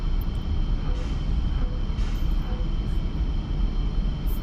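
A MiG-29 jet taxis to parking in the DCS flight simulator, its engines a steady, loud, continuous drone with no break and no talking.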